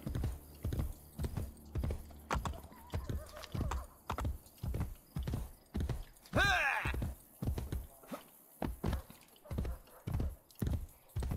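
Horse hooves clip-clop at a steady walking pace in the Renaissance-era video game Assassin's Creed Brotherhood, loud and close, with a brief whinny partway through and no talk over it.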